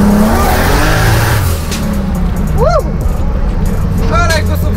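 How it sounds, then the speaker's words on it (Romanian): A 600 hp BMW E30 Turbo engine roars and revs loudly and steadily from close by, with a couple of rising whines from the turbo or the tyres partway through. "mașina lui Mihai, acest E30 Turbo de 600 de cai"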